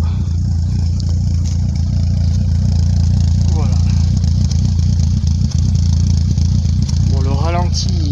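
Peugeot 106 S16 exhaust heard from close by at idle, a loud steady low engine rumble with a faint whine rising now and then, running throughout with no talking over it.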